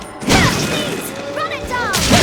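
Fire-spell fireworks explosions crack and burst in the fantasy game Dragon's Dogma: Dark Arisen, several broadband blasts layered over game noise, with pitched whooshing tones and voices calling out during combat.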